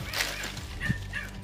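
Dog barking and yipping nearby in short, scattered bursts, a few whimpery yelps in quick succession with no voices over it.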